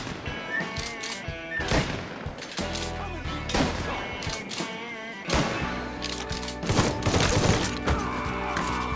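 Gunfire in the Mafia 3 shootout, bursts of sharp shots and rattling volleys, some near and loud, others overlapping in quick clusters, with game music or effects underneath throughout.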